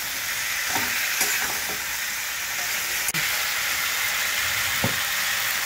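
Turmeric, salt and spices frying in a pan while being stirred, a steady close sizzle and hiss with occasional scraping strokes and a sharp click partway through, no talking.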